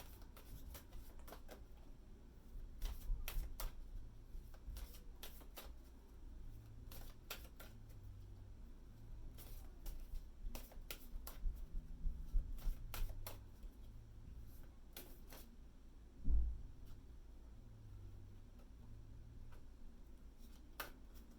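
Soft papery riffling and tapping of small tarot cards being shuffled, in repeated bursts with a brief louder knock near the end, no talking.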